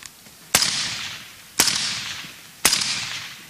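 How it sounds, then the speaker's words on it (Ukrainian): Three sharp rifle shots fired into the sky as a military salute for fallen soldiers at frontline positions near Troitske in Luhansk region, evenly spaced about a second apart, each ringing out and decaying in open air. "Три постріли на честь кожного загиблого бійця Королівської бригади."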